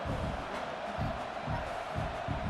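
Stadium crowd noise from a College Football 26 video game matchup, Carolina vs Wisconsin, a steady loud roar with swelling cheers, no talk over it.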